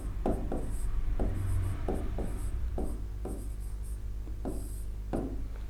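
Chalk or marker strokes on a board during a Hindi class, a steady series of short scratchy strokes in quick groups, fairly close and clear, with no talking over them.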